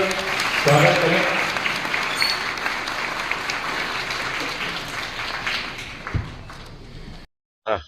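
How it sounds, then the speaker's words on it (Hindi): An audience applauds at a ceremony in Khairthal honouring Dr. Sumita Yadav, steady clapping filling the room for several seconds with voices mixed in, then fading out near the end. "तालियां बजाकर स्वागत करें।"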